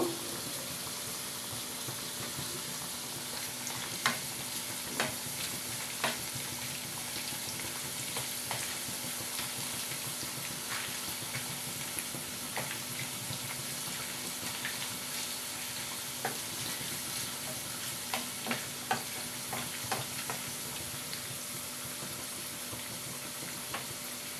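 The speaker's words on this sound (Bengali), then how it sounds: "এটাকে আমি চিপসের মতন করে ভেজে নেব।" Small leftover potato pieces deep frying like chips in hot oil, a steady bubbling sizzle with scattered crackles and pops throughout, no talking.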